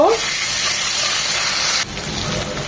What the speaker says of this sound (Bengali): দিয়ে দিব দু চামচ আদা রসুন বাটা এটাকে এক মিনিট ভেজে নেব